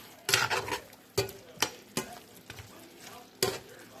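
Noodles are stirred in a pan, with scraping, clattering strokes of a utensil landing in irregular bursts over a soft sizzle.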